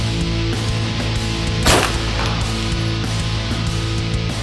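One sharp pistol shot fired at a target, a single crack near the middle, partly masked by a loud, steady background hum that runs throughout.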